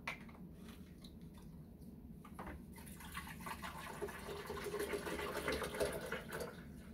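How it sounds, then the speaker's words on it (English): Water pours steadily into a blender jar until it is full, a continuous trickling rush that grows slightly fuller and louder as the level rises, heard alone. "And you get your water, fill it all the way up to the top so it can be blended well."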